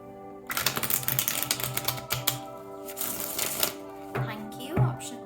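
Tarot cards are shuffled in a quick riffling, flapping run, dense for the first few seconds and then easing into scattered slaps, close and moderately loud with no talk over it.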